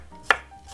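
A knife slicing large garlic cloves on a cutting board: two crisp, close chopping knocks about half a second apart over a quiet room tone.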